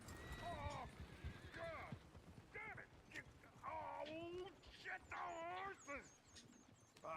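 A horse in a western video game gives several rising and falling whinnies over clopping hooves, fairly close, with someone talking between the calls.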